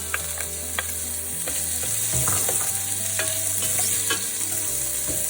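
Finely chopped green chili and onion frying in a pan, a steady bright sizzle with clicks of stirring and a low hum underneath, close and continuous with no speech.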